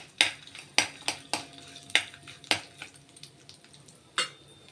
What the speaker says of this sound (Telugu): ఇది దోరగా వేగాలి